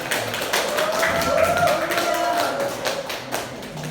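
A seminar audience gives scattered, light clapping, a soft patter of taps heard close, while a voice speaks briefly over it.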